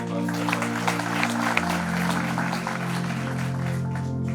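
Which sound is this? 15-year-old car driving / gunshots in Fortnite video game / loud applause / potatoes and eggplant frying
loud applause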